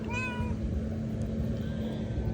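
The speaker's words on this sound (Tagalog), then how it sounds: "Ito yung una kong na-meet na pusa." A single short stray cat meow near the start, rising and falling, over a steady low hum and background rumble.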